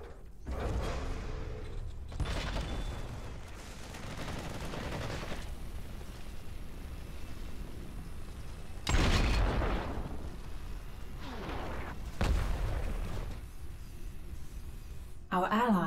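Gunfire and explosions crackle through a StarCraft 2 co-op battle, with heavier blasts at intervals over a dense, continuous barrage, under game voice lines.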